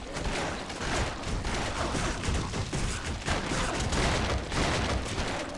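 Rapid gunfire and combat noise from the video game Torchlight II rattles on continuously, dense and loud, with bursts overlapping into a steady roar of shots and impacts.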